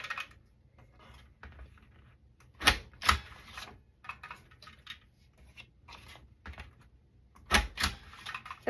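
Scissors snipping scrap pieces of patterned paper for a quilted hexagon scrapbook layout, sparse close snips and rustles with a few sharper clacks, in a quiet room.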